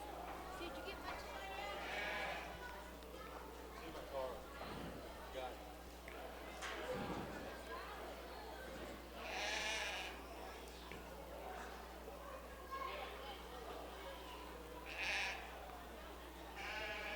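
Southdown sheep bleat repeatedly at a livestock show, several calls rising above steady crowd murmur and a low background hum, some near and some farther off.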